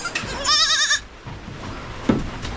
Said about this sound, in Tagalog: Yan po ang ating mga maliit na kambing